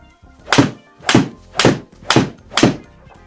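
Five sharp club-on-ball strikes hit a Kirkland golf ball at an even rhythm about half a second apart, each a crisp, loud thunk with a bright crack, close by and with no talk over them.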